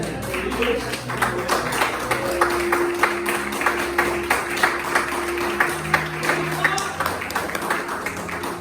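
Church congregation clapping in praise during a sermon, rhythmic claps pulsing steadily under sustained musical tones and a low hum, moderately loud throughout.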